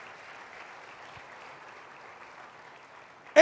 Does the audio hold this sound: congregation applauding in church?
yes